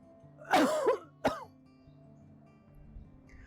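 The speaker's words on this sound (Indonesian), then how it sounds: "latihan nafas dengan coughing, dengan batuk" Two deliberate coughs as a breathing exercise, a longer, raspy one followed by a short sharp one, close up, then quiet.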